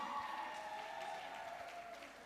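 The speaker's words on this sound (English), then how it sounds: "big round of applause as she makes her way onto that stage" Audience applause for a cast member walking onstage at a premiere, a faint, steady wash of clapping from a crowd that fades slightly toward the end.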